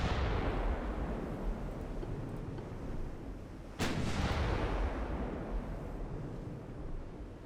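Naval guns fire high-explosive shells in the warship game Ultimate Admiral Dreadnoughts, one sharp heavy boom cutting through a continuous loud roar of battle rumble.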